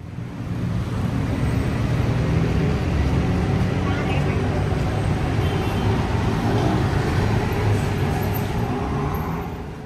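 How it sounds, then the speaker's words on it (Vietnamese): Street traffic in central Bangkok rolls past in a continuous low roar of cars, buses and trucks, with no horns standing out, holding steady and fairly loud for about ten seconds. "Xe nhiều như thế nhưng không có nhiều tiếng ồn của còi xe."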